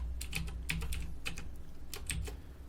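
Computer keyboard keys being typed in short bursts of clicks and taps, entering a date, close and clear with no voices.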